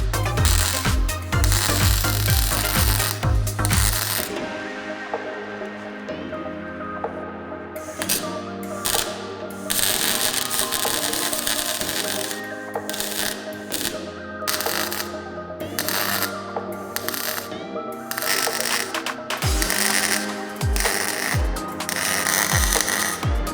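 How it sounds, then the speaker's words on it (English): Loud, rapid crackling bursts from a MIG welder tacking plug holes on replacement plates on a Honda Integra DC2, repeating in many short runs with brief pauses between them and no talk. "I'm going to start MIG welding all of these plug holes."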